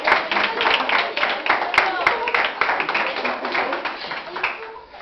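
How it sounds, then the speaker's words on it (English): Audience applause for a band: a dense, steady wash of many hands clapping at close range for about five seconds, fading slightly at the end. "Okay, an applause, please, for the band."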